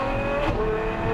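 A Novitec Ferrari F12 N-Largo rumbles with a loud, close exhaust note and a quick crackling pop, no voices over it.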